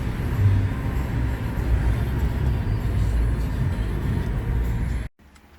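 Steady road rumble from a car driving behind a Volkswagen van on the way to a camper conversion, loud continuous low engine and tyre noise that cuts off abruptly near the end.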